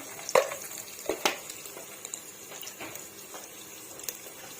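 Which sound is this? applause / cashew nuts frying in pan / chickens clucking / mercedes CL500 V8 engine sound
cashew nuts frying in pan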